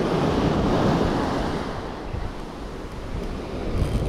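Ocean waves roll steadily onto a beach during surf fishing for pompano, a continuous close roar of surf with some wind buffeting the microphone throughout.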